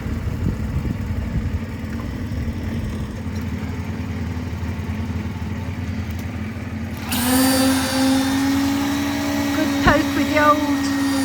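A concrete vibrator running during a retaining wall pour, a continuous motor drone that shifts to a higher, louder whine partway through, close and steady.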